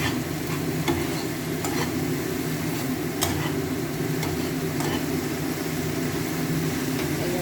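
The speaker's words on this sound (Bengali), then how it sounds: "যখন তেল রিলিজ না হবে, অয়েলটা রিলিজ না হবে, ততক্ষণ নাড়তে হবে" A mash of pointed gourd and shrimp fries in oil, giving a continuous low sizzle with a steady background hum and occasional faint clicks of stirring, alone and even throughout.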